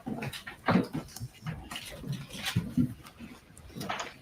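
A puppy whimpers and snuffles close by in a courtroom, producing soft, irregular whines and breathy sounds over a murmuring room.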